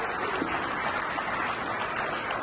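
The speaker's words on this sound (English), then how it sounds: "So give yourself a big round of applause." An audience claps in a dense, even wash of applause that holds at a steady level for the whole stretch.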